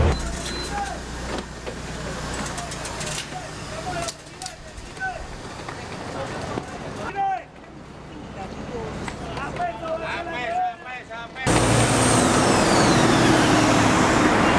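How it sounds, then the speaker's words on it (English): A city bus drives along with a steady engine drone and road rumble; tonal whines and brief squeaks come and go, and the noise swells into a louder, brighter rush near the end. "That was one of our buses."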